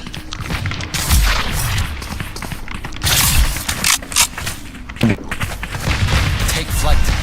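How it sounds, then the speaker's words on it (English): Gunfire in a video game pops in scattered bursts amid mechanical clanks and booming impacts, with irregular loud shots spread across the whole stretch. "Gunshot."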